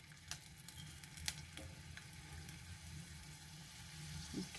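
Chicken rolled taquitos fry together in plenty of oil in a large skillet, giving a faint, steady sizzle with a few sharper crackles and pops scattered through it.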